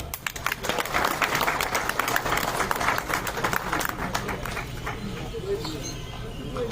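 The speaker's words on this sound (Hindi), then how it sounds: "जोरदार तालियां।" Audience applause at a trade show event, a burst of many hands clapping close and loud, mixed with talk, gradually thinning and fading over several seconds.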